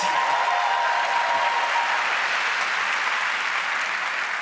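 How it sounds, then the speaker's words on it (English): Audience applause fills an awards ceremony hall at the Olivier Awards, a steady, dense wash of many hands clapping throughout, loud and sustained with no talk over it. "Can we give him a round of applause, please?"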